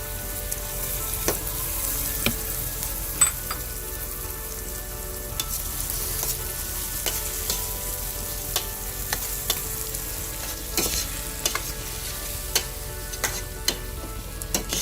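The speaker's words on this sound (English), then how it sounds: "you want to start adding the tomato puree and the chopped tomatoes" Tomato puree and chopped tomatoes sizzle steadily in a pan for a spicy pork and beef meatball curry, with occasional spoon scrapes and clicks of stirring, close up and with no voices.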